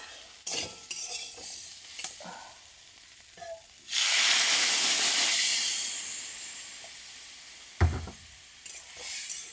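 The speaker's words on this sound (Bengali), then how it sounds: "এর মধ্যে অল্প একটু জল দিয়ে চাপা দিয়ে দেবো।" Spiced tomato curry in a pan as water is poured in and it is covered, scattered stirring knocks, then a loud rush of hissing steam and sizzle that gradually fades, ending with a lid clank.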